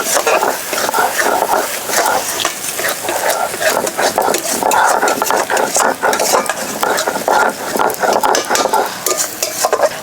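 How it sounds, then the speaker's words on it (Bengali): Spice paste with mustard being stirred and fried in a pan for prawn malai curry: a loud, continuous close-up sizzle with constant scraping and clinking of a spoon against the pan. No voices. "এখন ভালো করে এই মশলার সাথে আরেকটু কষিয়ে নিই"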